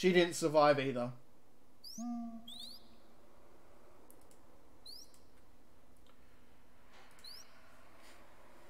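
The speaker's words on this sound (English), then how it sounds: "you hear the owl hooting and all that." An owl hoots a few times at moderate distance in the outdoor scene of The Colonel's Bequest game, soft calls spaced apart over quiet ambience after a brief spoken line at the start.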